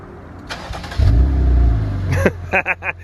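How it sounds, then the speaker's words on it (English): A Jeep Wrangler with an aftermarket exhaust cranks a few times on a cold start, catches and roars to life with a loud rev, then settles into a deep, rumbling idle with short blips. "Let's get us a little cold start on this bad boy"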